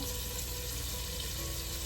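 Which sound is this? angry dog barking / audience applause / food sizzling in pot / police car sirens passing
food sizzling in pot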